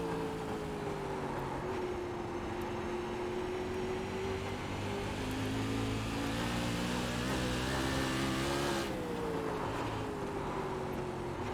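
Sprint car engine in the iRacing sim at USA International Speedway, a loud, steady high-revving drone with rising and falling pitch as the car works through corners, continuous for the whole stretch with no talk over it.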